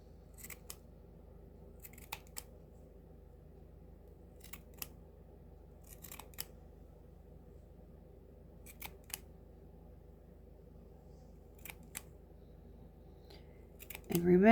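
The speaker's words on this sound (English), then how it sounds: "just snip little pieces at a time because you can always go back and take it off if you need more off in a certain spot" Scissors snipping yarn to trim a crochet pom-pom on an earflap hat, a series of faint, sparse clicks spaced a second or two apart over a quiet room background.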